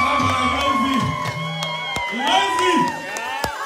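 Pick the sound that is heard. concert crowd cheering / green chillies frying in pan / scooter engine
concert crowd cheering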